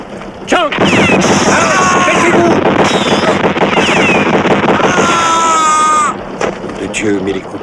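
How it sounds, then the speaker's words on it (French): Heavy gunfire from a boat in an action film, loud rapid bursts sustained for several seconds amid shouting voices and music. "les coups de feu viennent du bateau"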